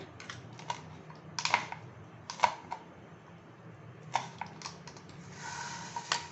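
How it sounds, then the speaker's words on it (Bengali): A knife chops two green chillies on a board in a home kitchen while a jackfruit and mango bharta is prepared, producing faint, irregular clicking taps in small clusters, with no speech. "এর মধ্যে আমি কাঁচা লঙ্কা কুচিয়ে নেব, 2টো কাঁচা লঙ্কা দিচ্ছি।"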